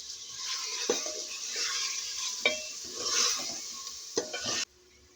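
Tomato frying and being stirred into a ginger, garlic and green chili paste in a pan: a steady sizzle with spoon scrapes and clacks at irregular intervals, close and continuous, with no talking.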